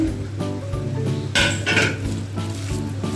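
Idli batter is mixed with green chillies, curry leaves and coriander for bonda, giving repeated wet stirring strokes and light clinks of a spoon against a bowl, close and steady with no talking.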